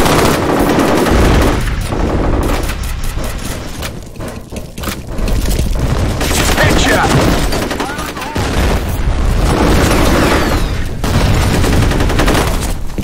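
Dense gunfire and explosions in the first-person shooter FEAR, loud bursts of rapid automatic fire with heavy booming blasts and debris, nearly continuous with brief lulls, while voices call out.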